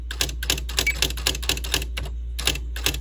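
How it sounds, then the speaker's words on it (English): Keys strike on a Smith Corona SL 575 electronic typewriter in a quick, uneven run of sharp clacks, about a dozen close and loud, with a brief pause midway and over a low steady hum. "I'll just type a bunch of random stuff here"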